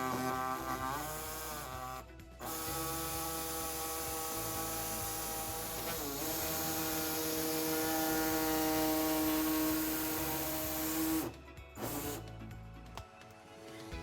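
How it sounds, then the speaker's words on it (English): An air saw trims the plastic bumper fascia of a 2011 Volkswagen Tiguan, giving a steady, close, high-pitched pneumatic buzz that runs almost continuously, with short pauses near the start and end. "today we'll be using an air saw to trim our fascia"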